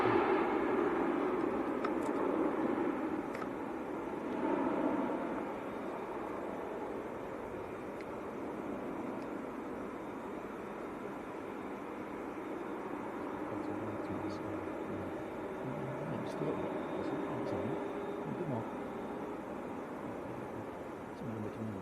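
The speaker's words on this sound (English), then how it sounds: "EasyJet just touching down" An EasyJet airliner touching down at Manchester Airport, a broad distant engine roar that swells early and then settles into a long, steady rumble of rollout.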